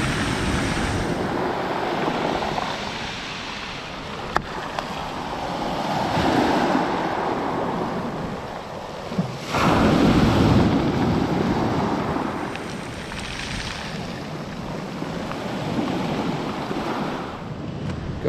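Sea waves washing onto the shore at Lazarevskoye near Sochi, with wind buffeting the microphone. The surf rolls in steady, broad surges, swelling loud around the middle, with no voices.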